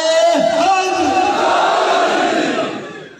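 A large crowd chants the religious slogan Naara-e-Haidari at a Sehnsa program, loud massed voices swelling in one sustained shout that fades toward the end.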